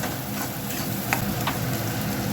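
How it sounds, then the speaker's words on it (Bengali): Spice masala for a pumpkin and moong dal dish being sautéed in a pan, a dense steady sizzle close up with a couple of faint stirring scrapes. "ভালো করে কষিয়ে নিতে হবে এটাকে লাল করে"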